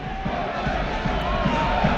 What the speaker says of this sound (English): that is probably the biggest cheer of the night from a Hartlepool United perspective